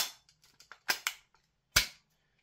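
A VFC MPX K airsoft gun fires in a few sharp, snappy clicks and short bursts, close and crisp with quiet gaps between shots.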